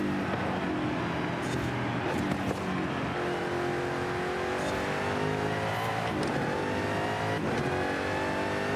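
A high-revving video game race car engine, set up like a 2000s F1 car, screams continuously, its pitch climbing and dropping with each quick gear change in a steady rhythm.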